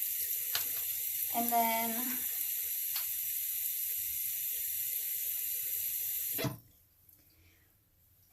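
A facial cleansing brush is rinsed under running tap water, giving a steady close hiss that cuts off near the end. A voice speaks briefly over it.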